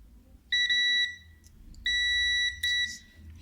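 A multimeter's continuity buzzer sounds while a microwave oven's high voltage diode is tested: three clear electronic beeps, the first two longer and the last short, over a low background hum.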